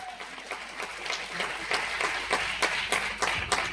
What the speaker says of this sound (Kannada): ಅವ್ರಿಗೊಂದು ಸ್ವಲ್ಪ ಎಕ್ಸ್ಟ್ರಾ ಚಪ್ಪಾಳೆ ದಯವಿಟ್ಟು ಬರಬೇಕು